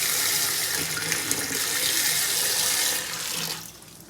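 Hot water pours steadily into home beer brewing equipment with a counterflow chiller, a full, continuous splashing rush that cuts off near the end and fades to a quieter trickle.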